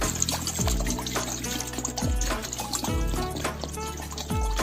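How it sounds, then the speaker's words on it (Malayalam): Water pouring into an idli steamer pot, gurgling and splashing close by in several separate pours, each with rising tones as the vessel fills, no voices. "ഇഡലി പാത്രത്തിലോട്ട് ആവശ്യത്തിന് വെള്ളം ഒഴിച്ചു കൊടുക്കാം."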